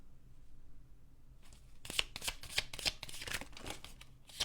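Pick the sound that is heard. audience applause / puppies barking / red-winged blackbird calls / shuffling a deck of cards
shuffling a deck of cards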